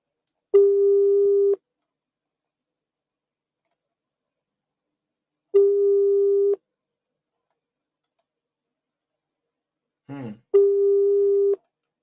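A phone ringback tone on an outgoing call repeats three times, each a one-second steady buzzing tone separated by long silences, with a brief faint voice just before the last ring.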